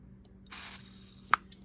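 Lubricant sprays into a Microlite fishing reel in one short, close hissing burst, followed by a single sharp click in an otherwise quiet room.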